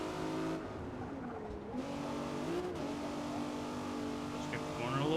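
Engine of a Nissan G35 time-attack build in Forza Motorsport revving hard toward redline, a loud continuous rising and falling harmonic whine with brief dips between pulls, close and dominant throughout.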